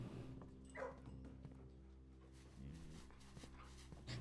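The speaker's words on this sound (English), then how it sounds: "It makes a funny noise when you pet the dog." Dog in the video game Blue Prince panting and whimpering softly as it is petted, faint short whines over a quiet game music background.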